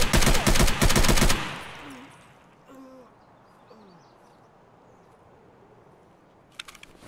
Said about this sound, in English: It's distant gunfire.